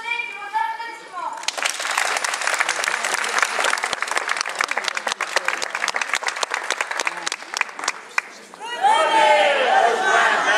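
A theatre audience applauds a French stage performance, with dense clapping that swells and holds for several seconds between stretches of voices.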